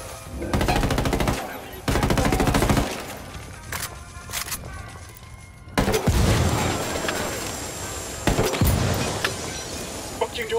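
Repeated loud bursts of automatic gunfire ring out in a Ghost Recon Wildlands campaign firefight at a casino. Rapid volleys are separated by brief pauses, with heavy cracks and rattling shots close by.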